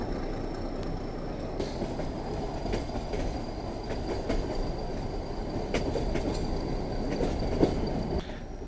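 Nilgiri Mountain Railway toy train running near Ooty, a steady rolling rumble of the carriages with a faint high whine and occasional clicks, continuous and fairly close, no talk.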